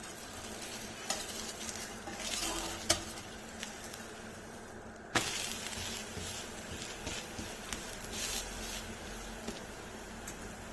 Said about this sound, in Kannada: ಸ್ವಲ್ಪ ಎಣ್ಣೆ, ಮೀಡಿಯಮ್ ಫ್ಲೇಮಲ್ಲಿ ಇಟ್ಕೊಂಡು ಬೇಯಿಸ್ಕೊಳ್ಳಿ.